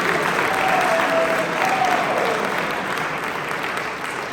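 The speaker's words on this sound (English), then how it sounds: "Now clap it up for yourselves." An audience at an MLK Day university presentation claps loudly and steadily, the applause slowly thinning toward the end, with a few faint voices mixed in.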